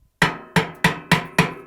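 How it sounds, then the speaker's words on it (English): Hammer striking a flat blade screwdriver while separating a Samsung washer spider arm from the basket: five sharp metallic taps in an even rhythm, close and clear. "flat blade screwdriver and a hammer."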